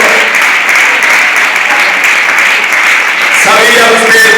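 A church congregation applauds during a Spanish-language sermon, a dense, steady crowd clapping that holds at full level throughout, with a few voices faintly mixed in near the end.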